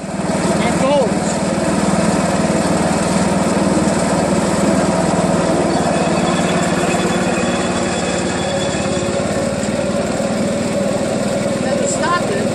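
A vintage Jacobsen Imperial 26 lawn mower with a Tecumseh push-to-prime engine runs at a steady, loud, close chug throughout, with a voice talking over it.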